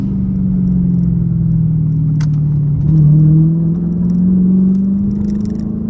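Dodge Challenger SRT8 V8 engine rumbling steadily up close, with a brief rise in revs near the middle before settling back into a deep, even drone.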